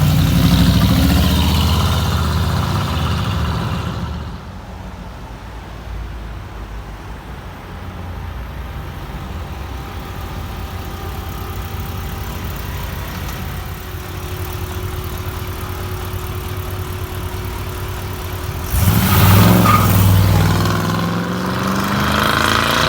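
Two engines, a Bentley W12 and an American V8 in a Pontiac, idle steadily up close with a low, even rumble, with louder bursts of revving at the start and again near the end.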